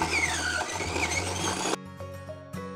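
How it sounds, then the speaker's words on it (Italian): Food processor blending breadcrumbs, a loud continuous whirring motor that cuts off abruptly partway through, leaving a few faint clicks and hum after it stops. "Verso la mollica di pane nel mixer e la frullo per bene"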